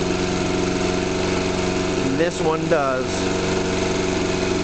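A Geet-modified engine runs steadily on a mix of water, Mazola corn oil and gasoline, a constant idling drone with a few brief rising whirs partway through, while someone speaks briefly over it.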